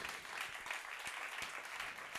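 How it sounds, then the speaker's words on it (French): An audience at an awards ceremony applauds softly and continuously for a couple of seconds, sounding faint and distant, with a few individual claps standing out. "On les applaudit."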